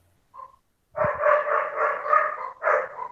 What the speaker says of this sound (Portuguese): é meus cachorros aqui, é porque eles não se batem, aí ficam brigando